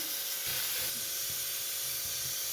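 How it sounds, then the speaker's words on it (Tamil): Mustard seeds spluttering in hot oil in a pan: a steady loud hiss with faint irregular pops throughout, no talking. "வானில எண்ணெய் விட்டு கடுகு போட்டு பொறிஞ்சிடும்"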